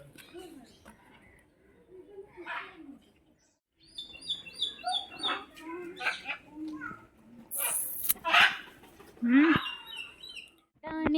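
Jungle fowl calling at Pilikula park, heard as short bird calls and chirps scattered among nearby voices and children's chatter, with a brief rising call near the end.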